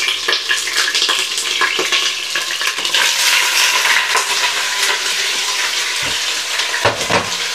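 Pieces of meat fry in a hot pan with a steady, dense sizzle and crackle, broken by a few sharper pops and stirring scrapes, close and fairly loud throughout with no talking.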